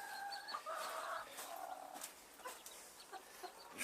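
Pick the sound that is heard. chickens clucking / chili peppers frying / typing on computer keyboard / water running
chickens clucking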